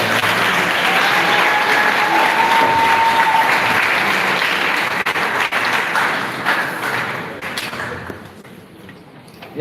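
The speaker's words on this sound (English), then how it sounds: "give them a round of applause" Audience applause for students after a round of a senior high school agriculture quiz competition, a loud sustained crowd clapping that holds steady for most of the stretch, then thins and fades near the end.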